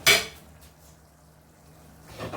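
A lid clanks onto a cooking pot of steaming fish heads, one sharp metallic clatter followed by near silence and a faint second rattle.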